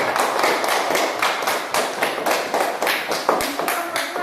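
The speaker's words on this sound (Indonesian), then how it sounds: "Kita beri tepuk tangan untuk kelompok 1." A class of students applauds together after a group presentation, a busy, steady patter of many hands clapping close by throughout, with a few sharper taps standing out near the end.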